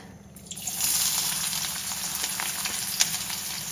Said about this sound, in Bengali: এবার এই তেলে একে একে সব মশলাগুলো দিয়ে দেবো। প্রথমে দিয়ে দেবো পেঁয়াজ